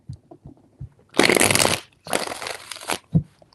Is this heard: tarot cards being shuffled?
yes